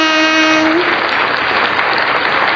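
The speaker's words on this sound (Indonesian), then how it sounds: "Tepuk tangan." Applause fills the stretch as a loud, continuous wash of clapping; a sustained tonal note sounds over it for the first moment, then the clapping carries on alone.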